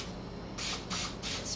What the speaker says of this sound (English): you want to spray it with some non-stick cooking spray